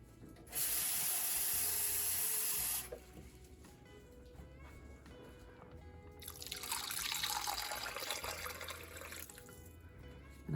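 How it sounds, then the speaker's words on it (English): Water is poured from a tap into raw chicken teriyaki marinade, a steady splashing rush in two bursts separated by quieter clinking and handling sounds. "So I need to add a little bit of water to mine."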